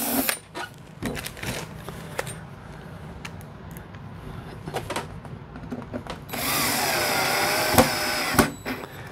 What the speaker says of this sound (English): Now we're going to start drilling these final holes in both sides.